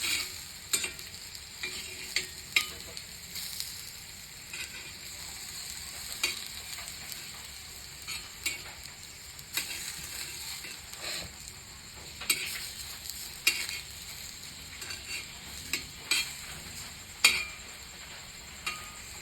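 Sweet potato slices for a sweet dish roast in a pan, a low continuous sizzle broken by repeated sharp scraping clicks as a spatula turns and shifts them, close up with no speech.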